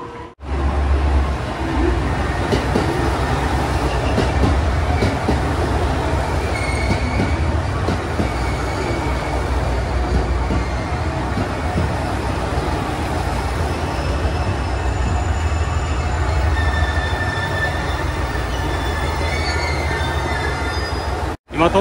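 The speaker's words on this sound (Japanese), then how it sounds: "特急浜風大阪駅として大阪駅に到着したところなんですけど" The Hamakaze, a limited express diesel train, pulls into Osaka Station with loud, continuous rumbling, high wheel squeals and rail clatter that fill the whole stretch close by.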